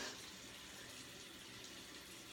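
A faucet runs steadily into a sink while LipSense lip color is rinsed off, a soft, even hiss of flowing water with no talking.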